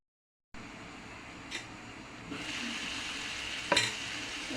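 Rohu fish roe sizzles in a hot pan after a brief silence, a steady crackling hiss that swells midway, with a couple of sharp clinks and spatters.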